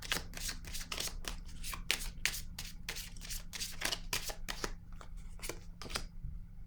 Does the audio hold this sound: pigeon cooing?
no